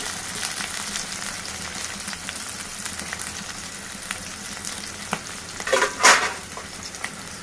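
Mustard seeds, cumin, onion and green chili fry in hot oil with a continuous close sizzle and faint crackle, swelling into a louder burst of spattering near the end.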